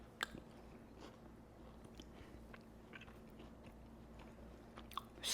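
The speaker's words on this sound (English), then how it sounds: "I'm going to get me a piece of this orange." Close, quiet chewing of a piece of fresh orange, with soft wet bites and a few sharper crunchy clicks over a faint steady background hum.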